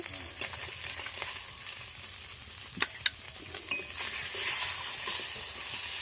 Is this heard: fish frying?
yes